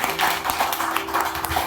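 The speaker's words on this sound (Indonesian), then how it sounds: "Tepuk tangan dong." Audience applause at a gathering in Tigalingga, greeting a police official from the Kapolsek. The clapping is dense and steady, with many overlapping sharp claps sustained at moderate level throughout.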